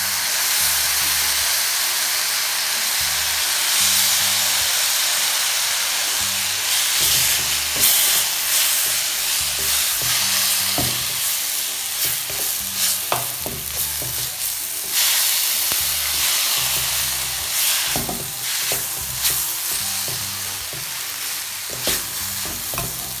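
Chili paste fries in a pan over low heat with soy sauce added, giving a steady loud sizzle and hiss broken by repeated scraping and stirring clatters throughout.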